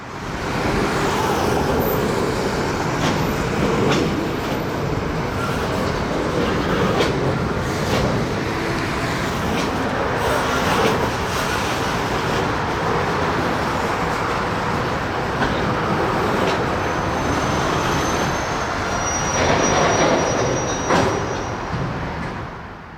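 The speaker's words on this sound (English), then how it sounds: "the NX-10 continues north onto the Farmco siding to tie onto 3 loads" NX-10 freight train easing north onto the Farmco siding on the Housatonic line to couple onto three loaded cars, a steady broadband rumble of wheels and engine holding level throughout, with faint high squeals near the end.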